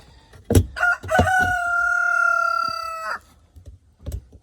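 A backyard rooster crows one long, loud call near the listener, with a couple of short clucks and knocks before it and a faint cluck after, and no talk.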